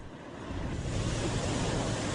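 Ocean waves driven by gusting wind wash in as a steady, loud roar of broadband surf, swelling slightly after the first moment and holding on without voices.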